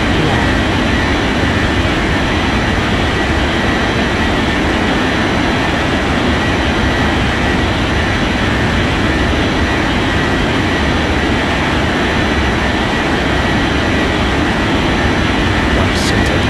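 An airliner taking off from runway 32 left in an air traffic control game: a steady, loud jet engine roar that holds throughout without letup.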